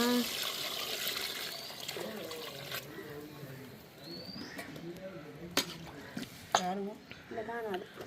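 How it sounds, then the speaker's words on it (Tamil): Coconut milk trickles into a pot of chicken biryani, a faint soft liquid pour in a quiet kitchen, with someone talking over it. "நான் அந்த தேங்காய் பால் விடுறேண்ணா"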